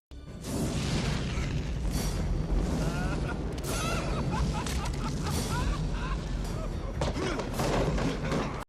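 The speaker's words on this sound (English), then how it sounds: "this leads to the entire building collapsing" A building explodes and collapses in the action film Demolition Man, a dense run of booms, crashes and falling debris that stays loud throughout, mixed with shouting and other film sound.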